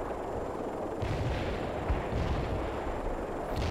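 Heavy artillery rumbles in the real-time strategy game World in Conflict, a continuous low booming barrage with several deeper thuds, fairly loud against a constant background hiss.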